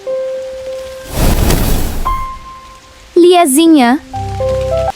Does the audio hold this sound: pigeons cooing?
no